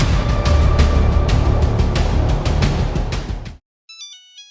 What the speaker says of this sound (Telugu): చెప్పండి ప్రభాకర్ రెడ్డి గారు, ఫోన్ చేసిండ్రు.